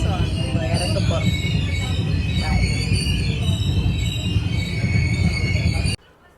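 A train pulling into Arakkonam station in India rumbles loudly and steadily under a persistent high wheel squeal, then the noise cuts off abruptly near the end.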